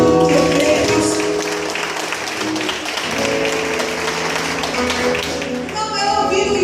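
Congregation at a Catholic prayer group meeting applauding the Lord, a steady stretch of clapping with tapping mixed in and some voices, swelling again near the end.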